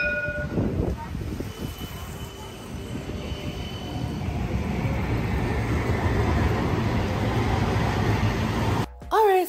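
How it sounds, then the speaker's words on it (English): An Amsterdam tram ride in cold weather: steady low rumbling and rattling of the moving tram car fills the whole stretch, with brief higher squeals near the start and a sudden drop and jolt near the end. "So I'm just cruising around right now on the trams."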